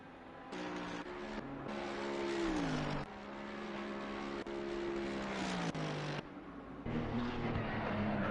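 Race cars at the Spa-Francorchamps circuit drive past in a sim racing league, engines revving and shifting through gears with rising and falling pitch, a continuous layered drone with several cars heard in turn.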